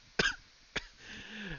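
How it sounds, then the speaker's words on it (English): Two quick coughs close to the microphone, a louder one followed by a shorter one, then a faint hum. "Apologies for my cough there."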